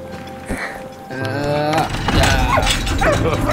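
A dog in the World War I video game Valiant Hearts: The Great War barks, yips and whimpers in short bursts over a layer of game music and ambience.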